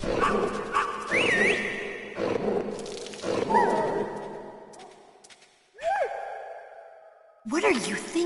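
In Metal Gear Solid, a dog gives several bursts of yelping barks and whines, separated by short pauses, with the last bark coming after a brief silence.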